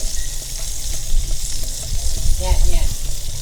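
Butter melts and sizzles in a very hot pan with a ribeye steak, rosemary and garlic: a steady, close frying hiss with crackling pops that swell briefly near the end.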